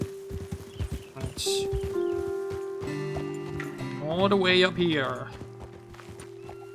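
Horses' hooves clip-clop in the video game Red Dead Redemption 2, a close, steady walking rhythm with a soft neigh-like tone, over background music and someone talking.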